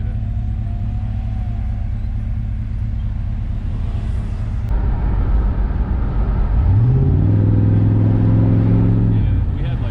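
A 1993 Chevrolet Caprice wagon engine drones steadily, then revs sharply upward on a downshift, the loud climbing pitch holding before settling, with people talking over it.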